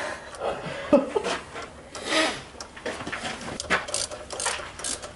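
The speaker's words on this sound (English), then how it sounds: "You should just go at it right with the socket, full force" Socket wrench ratcheting and working at a bolt on a Subaru Forester XT during a timing belt job, giving several scattered metallic clicks and rubbing scrapes at close range, fairly quiet with no talk.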